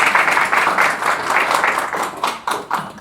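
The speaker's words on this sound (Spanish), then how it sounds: "Ya están aplaudiendo por la levantada" An audience applauds at a thanatology lecture, steady close clapping from many hands that goes on throughout, with a few sharper individual claps near the end.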